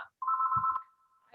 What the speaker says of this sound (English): I apologize for that ringing phone.